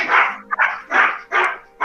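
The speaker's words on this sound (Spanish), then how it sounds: "un perrito por ahí ladrando." Small dog barking outdoors, four sharp close yips in quick succession, loud and clear with nothing else audible.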